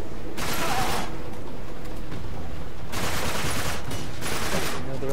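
Repeated bursts of rapid gunfire in Uncharted 3, three loud volleys separated by brief lulls, with continuous game noise underneath.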